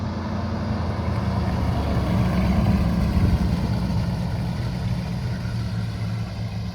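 A Chevrolet C3 Corvette project car's engine runs steadily, a loud, close, even rumble that holds without breaks and rises slightly mid-way before settling again.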